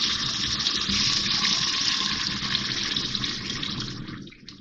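Water pours steadily from a cup into hot chicken masala in a pan for curry gravy, a continuous near gush and sizzle that fades and stops at the end.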